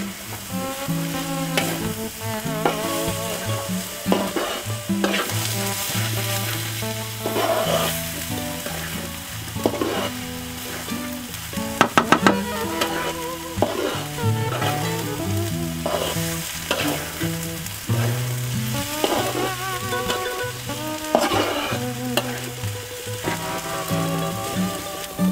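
Grated coconut and shrimp fry in a pan while being stirred, a dense, continuous sizzle with scraping strokes, close and loud, backed by a tonal musical layer.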